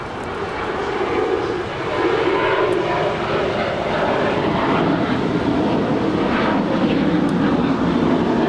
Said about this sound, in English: That is Delta Airlines Flight 326 landing on the north side coming in from JFK, New York. It's a Boeing 767-300ER.